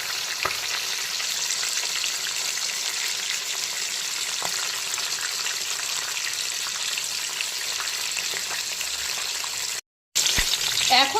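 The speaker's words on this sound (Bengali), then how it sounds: "এখন মাছের মাথাটাকে একটু উল্টো করে দিচ্ছি, আর উল্টো দিকটাকেও একইভাবে ভালো করে ভেজে নিতে হবে।" Fish heads fry in hot oil for muri ghonto, producing a dense, steady sizzle and crackle throughout with a few sharper pops. There is a brief silent gap near the end.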